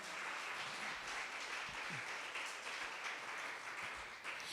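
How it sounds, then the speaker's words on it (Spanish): Church congregation clapping together as an offering of applause, a steady dense wash of many hands continuing evenly throughout, with no talk over it. "Dele una ofrenda de palmas al Señor"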